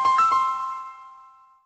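The T-Mobile brand jingle sounds as a quick run of bright synthetic ding notes that ends on one sustained tone fading out over more than a second, clear and alone.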